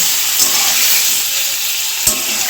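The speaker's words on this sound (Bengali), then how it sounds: "পনিরটা ভেজে নেব।" Paneer fries in oil over a low flame, giving a steady, loud close-up sizzle with two brief taps of a spatula and no speech.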